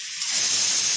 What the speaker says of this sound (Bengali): পেঁয়াজ কুচি দিয়ে বেশ কিছুক্ষণ ভেজে নেব